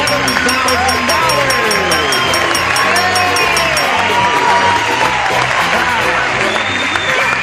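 A game show studio audience applauding and cheering loudly as a contestant wins, a dense wash of clapping and shouts mixed with upbeat show music and voices.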